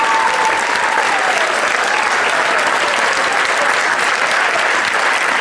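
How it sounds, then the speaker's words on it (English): Audience applause follows a high school production of The Taming of the Shrew, loud continuous clapping from a packed house that holds steady, with a voice briefly heard early on. "Another round of applause."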